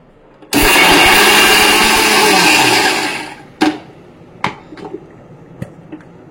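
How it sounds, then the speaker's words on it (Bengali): A mixer grinder runs loudly for about two and a half seconds, grinding onion, fenugreek, amla and curry leaves into a paste, then winds down, followed by a few sharp knocks and taps. "চলো এটা মিক্সিতে বেটে নিই।"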